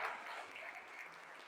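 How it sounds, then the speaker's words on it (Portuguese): A church congregation applauding during a service, a steady wash of many hands clapping that sounds faint and distant for the whole stretch. "estender uma salva de palmas pela vida das pessoas que estão servindo essa"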